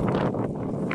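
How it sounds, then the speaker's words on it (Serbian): Strong gusts buffet the microphone on a mountain hike along a ridge near 1,800 metres, a continuous loud low roar of wind noise filling the whole second. "Duva i dalje jak vetar"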